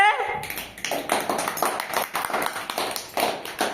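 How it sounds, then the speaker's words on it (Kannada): Children in a classroom clap together in a quick, slightly uneven burst of many hand claps, close and lively, with a few scattered sharper taps and a faint voice beneath them. "ಎಲ್ಲ ಚಪ್ಪಾಳೆ"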